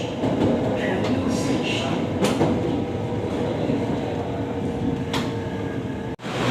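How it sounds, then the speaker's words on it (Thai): Electric commuter train on Bangkok's SRT Red Line pulling into Taling Chan station, a steady rolling rumble with wheel noise and brief squeals, ending in a short drop-out as it stops. "ครับก็ถึงแล้วนะครับสำหรับ รถไฟฟ้าสายสีแดงนะฮะ บางซื่อตลิ่งชันนะฮะ"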